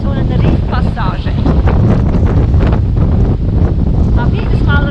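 Strong wind of about 20 knots roars across a sailboat passing through a reef pass in Fiji, buffeting the microphone in a loud, continuous rush that mixes with the sound of the sea.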